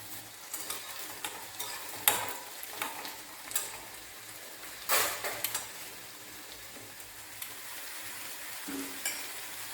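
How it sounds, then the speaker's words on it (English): Mustard seeds crackle and sizzle in a pan for a leafy vegetable curry, a faint steady fry punctuated by sharp, irregular pops and a few utensil clinks. "We are putting mustard into it."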